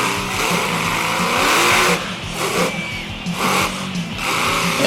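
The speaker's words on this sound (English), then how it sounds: "And with that freestyle run right there, Matt Cody would clinch" A monster truck freestyle run at a Fredericksburg, Virginia event: a loud, continuous engine roar that surges and dips with revving bursts and tire noise, filling the whole stretch.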